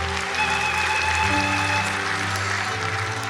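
A church congregation claps for the Lord, a dense, sustained round of applause with a steady, even roar throughout, accompanied by sustained instrumental tones.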